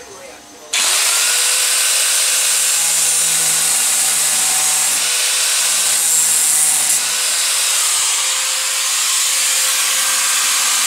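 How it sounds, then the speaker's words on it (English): An angle grinder fitted with a cutting disc cuts off excess threaded rod, a loud continuous high whine that starts abruptly and holds steady, with slight shifts in pitch as the disc bites. "I use the grinder with a cutting disc in"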